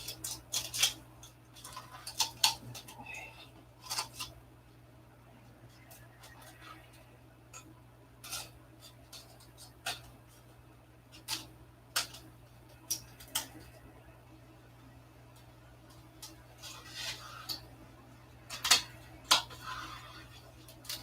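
Sharp, intermittent clicks and snips of a knife trimming excess material off a model in a hangar workshop, scattered irregularly over a quiet background hum.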